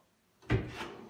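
A handleless push-to-open drawer in a modern student studio pops open with one sharp wooden knock and a short sliding rumble, close and alone.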